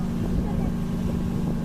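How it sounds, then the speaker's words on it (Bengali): River launch and sand trawler boat engines on the Meghna river estuary near Narayanganj make a steady, low droning rumble with wind noise, constant and close throughout. "এই যে লঞ্চ, এই বালু ট্রলার"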